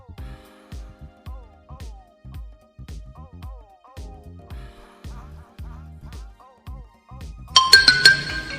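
A mobile phone ringtone plays a loud, close melodic tune of repeating bright notes for several seconds, then breaks into a burst of harsh noisy clatter at the end.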